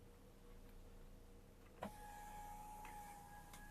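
A motorized window sunshade in a Toyota Alphard/Vellfire AGH40 starts with a sharp click and then runs with a steady, faint electric whine inside the quiet cabin.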